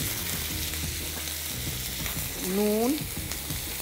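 Tomato paste masala for chitol fish muitha sizzles and fries steadily in a pan, heard close up as a continuous crackle with a brief swelling of louder sizzle partway through.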